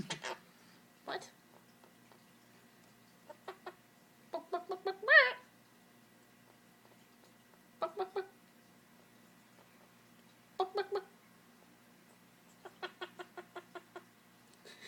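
Bursts of clucking from a pet bird, heard indoors in short clustered runs with one louder squawk, separated by quiet gaps over a faint steady hum.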